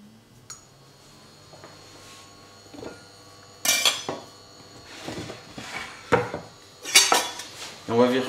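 A frying pan being picked up and set down in a home kitchen, bringing sharp metallic clanks and clinks of pans and utensils that grow louder and more frequent toward the end, with faint talk early on.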